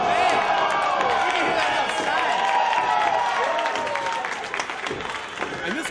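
A wrestling crowd at a Chest Flexor vs Andrew Palace match cheers and applauds loudly during a near-fall, a dense roar with shouts throughout, fading a little toward the end, with a commentator talking over it.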